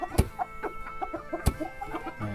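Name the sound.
chickens clucking in a Lao village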